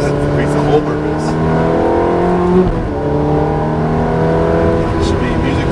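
A Ferrari F430 engine heard from inside the cabin, a loud, sustained, harmonic-rich drone whose pitch rises and dips slightly as it revs, with a voice talking over it.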